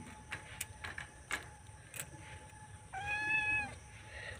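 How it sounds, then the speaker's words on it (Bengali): A cat meows once, close and fairly loud, after a stretch of faint clicks and taps in a quiet room where pigeons are kept. "এখানে যে বিড়ালটা আপনারা দেখছেন সেটা কিন্তু এখন নিয়ে আসা হয়েছে"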